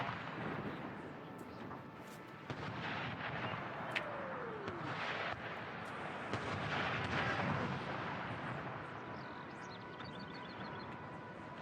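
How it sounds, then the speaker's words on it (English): Artillery guns fire in an American Civil War game, a steady roar of distant cannon booms and battle rumble with scattered sharper reports and whistles through the whole stretch. "Let's get some cinematic shots of that artillery firing down."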